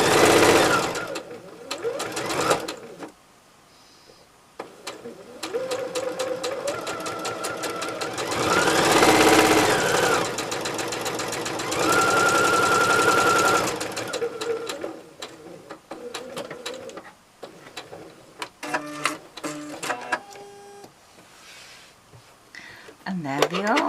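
A sewing machine chain pieces flying geese quilt blocks, its needle chattering in fast loud bursts that start and stop, with a voice talking between runs and fabric handling noises close by.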